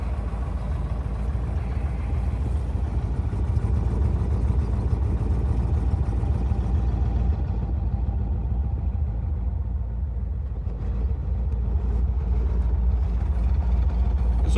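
A 1970 Plymouth Barracuda convertible with a 426 Hemi V8 and four-speed runs at a steady, close idle, its deep low rumble continuous and even throughout with no talk over it.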